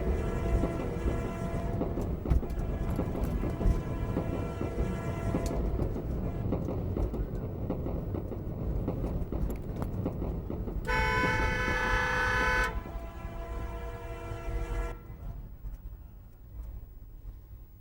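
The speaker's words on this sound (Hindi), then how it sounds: "रेल चल रही है, हट जाओ पटरियों से।" A train rolling along the rails with a low rumbling clatter, its horn blaring in long tones twice, close and loud amid outdoor noise during a Holi celebration.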